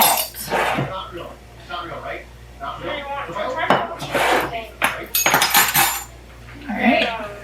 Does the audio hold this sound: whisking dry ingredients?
yes